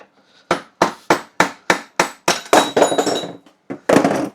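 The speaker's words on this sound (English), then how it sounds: "This should be the last round of hammering." Rapid, evenly paced hammer strikes on metal of a Ducati motorcycle, loud and close, with a ringing clang building toward the end before a final heavy blow.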